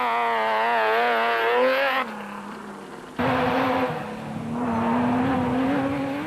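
Off-road racing cars roar past one after another, their engines rising and falling in pitch as they accelerate, with a brief dip between passes and loud, close-up revving throughout.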